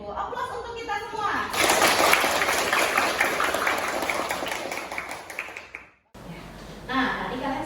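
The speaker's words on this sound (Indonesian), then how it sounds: "Aplaus untuk kita semua." A classroom of students bursts into applause, a dense burst of clapping lasting several seconds that swells and then fades out. After a short break, a teacher's voice comes in.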